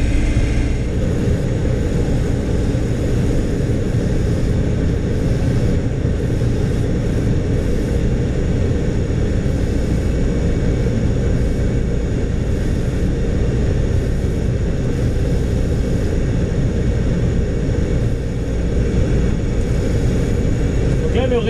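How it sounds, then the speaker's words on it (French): A combine harvester engine labors under load during a barley harvest, giving a loud, constant low drone with a steady mechanical roar that holds level throughout, and a voice speaks faintly beneath it. "le régime moteur diminue parce qu'il est en charge"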